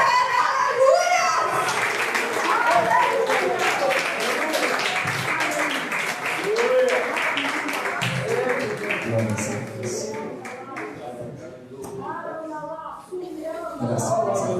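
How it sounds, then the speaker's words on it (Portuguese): A church congregation applauds during an evening worship service, steady clapping filling the space for most of the stretch, tapering and thinning near the end, with scattered voices and children's chatter mixed in. "Você pode aplaudir esse Deus."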